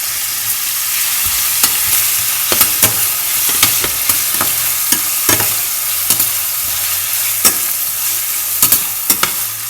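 Onions and spices fry in oil in a pan for a mushroom sukka, a loud continuous sizzle close up, broken by frequent sharp clicks and scrapes of stirring.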